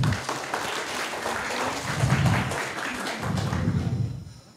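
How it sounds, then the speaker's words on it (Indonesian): A school seminar audience claps for a student's presentation, a sustained round of close applause that swells and eases in waves before fading out at the end. "Let's have a big applause to Fatih."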